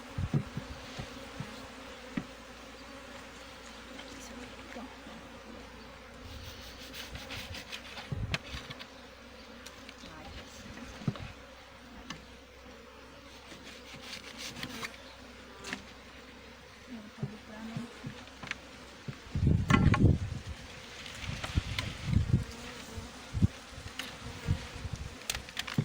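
Bees hum and buzz continuously in a captured nest with their queen, a low steady drone with some louder swells, up close.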